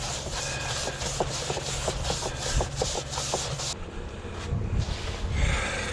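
An old paintbrush coats the inside of a hypertufa mold, giving soft scratchy rubbing strokes in a loose rhythm over a bed of outdoor wind and engine-like background noise, then a quieter stretch near the end.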